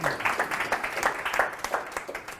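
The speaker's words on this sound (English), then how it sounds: "give him a clap" An audience claps steadily for a couple of seconds, a dense patter of many hands close by.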